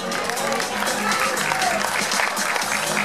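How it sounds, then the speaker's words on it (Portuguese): Audience applause at an IFBB bodybuilding awards ceremony for the Wellness category fills the hall, a thick, steady clatter of many hands with crowd murmur blended in, constant and fairly loud. "As demais, uma salva de palmas"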